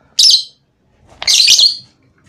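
Pet rosy-faced lovebirds chirp in two loud, bright bursts of rapid high twittering separated by a short pause, with no talk.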